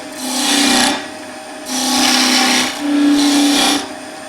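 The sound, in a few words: skew chisel cutting V-cuts in wood on a lathe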